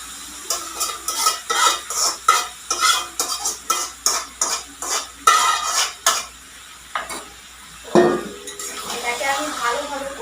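Duck meat tipped into a pan of spice masala and stirred, with repeated loud scraping and clinking of a spoon against the pan in an irregular rhythm, a soft sizzle underneath and one heavier clatter near the end.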